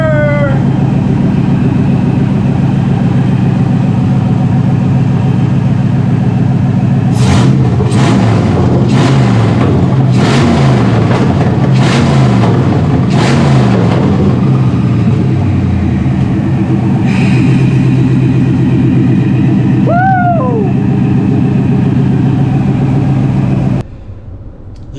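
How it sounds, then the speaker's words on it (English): Chevy OBS C1500 pickup engine with Holley Terminator X fuel injection, with a known vacuum leak, idling steadily up close, then revved in a quick series of throttle blips before settling back to a low, even idle. "She's alive, she's idling, she's throttling."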